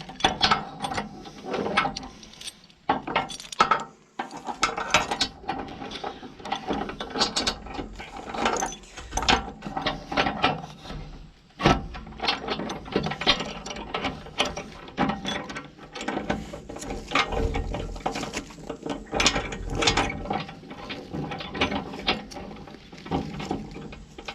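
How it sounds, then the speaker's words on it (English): A large ratchet cranks tight during construction of a pig pen on an off-grid homestead, giving a long run of dense, rapid mechanical clicking in irregular bursts with brief pauses, close and fairly loud. "we're going to use the bigger ratchet."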